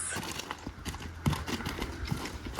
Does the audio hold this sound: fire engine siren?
no